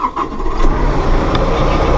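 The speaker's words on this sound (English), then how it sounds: "We're going to start her up here." Massey Ferguson compact tractor engine cranking and catching, then settling into a steady close mid-pitched idle rumble for the rest of the short stretch.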